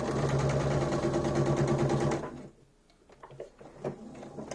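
A sewing machine stitches along a marked line on fabric, a fast rhythmic whirring close by for a couple of seconds, then it stops and a few light clicks and handling sounds follow.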